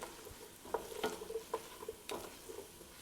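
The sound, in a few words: sauteing vegetables with garlic, rosemary and bay leaf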